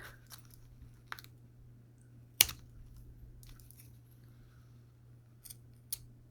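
Scissors trimming string: a few sharp, isolated snips spread over several seconds, one louder and closer than the rest, over a steady low hum in an otherwise quiet room.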